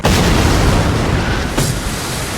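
A loud, sustained explosion roars inside a church in a film, a dense rumbling blast with a brief sharp crack partway through, no voices.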